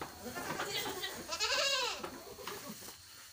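A goat bleats once, a faint wavering call amid quiet farm background noise while goats are fed chopped grass, with some soft talk nearby.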